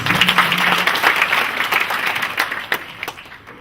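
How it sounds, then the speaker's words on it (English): An audience at the launch of a county sanitation strategy in Nakuru claps in a dense, sustained round of applause that gradually thins out into scattered individual claps near the end. "let's give the two of them a better clap, please"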